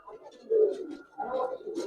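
Fancy coloured pigeons coo in two low, throaty bursts separated by a short pause. Faint rustling sounds sit in between.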